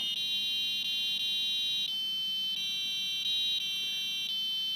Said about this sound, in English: That's my little demonstration of the Piezo speaker.